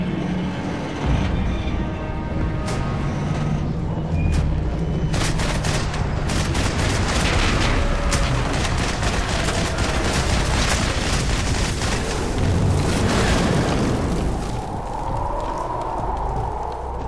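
Sustained gunfight in Max Payne 3, dense overlapping gunshots and rattling automatic fire with booming impacts, loud and continuous for the whole stretch.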